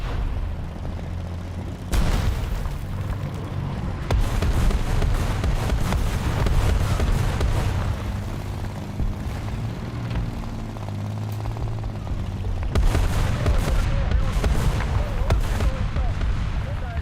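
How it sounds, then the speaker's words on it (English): Artillery shells land in War Thunder as repeated heavy booms and crackling blasts, several sharp onsets spread across a continuous rumbling engine-like drone with scattered bursts of noise. "that area is taking artillery hits"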